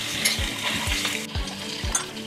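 Beef stew being stirred in a pot gives a steady sizzle with a few rhythmic low scrapes and thuds from the spoon against the pot, with no voices.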